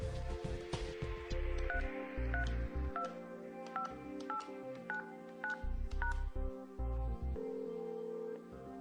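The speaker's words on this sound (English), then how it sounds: "Use extension 500 to dial locally." Telephone dialing tones from an extension on a Yeastar MyPBX phone system, a series of short, evenly spaced DTMF beeps, each a distinct pitched tone, heard clearly and alone.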